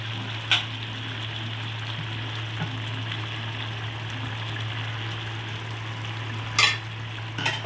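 Boiled potatoes being stirred with mustard oil in a pan, a steady low sizzle and hum with a couple of sharp utensil clinks near the start and toward the end.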